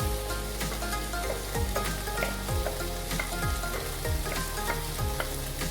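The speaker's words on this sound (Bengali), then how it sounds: "এই সময় আমি মাংস করা যেটা ছিল ম্যারিনেট করা, সেটা দিয়ে দিলাম।" Marinated chicken fries in a pan for chicken rezala, crackling and sizzling steadily up close, with rhythmic scraping from regular stirring.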